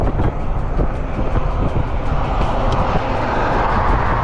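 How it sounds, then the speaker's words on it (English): A truck rolls past on a road beside a cyclist, a loud, steady broadband roar that stays close and heavy for the full few seconds, with no speech over it. "So we're gonna wait for this truck to pass."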